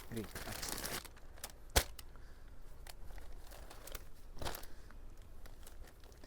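Packaging around a green silk saree crinkles and tears as it is unwrapped at a Kolkata wholesale market, with rustling bursts and one sharp snap, close by amid background noise.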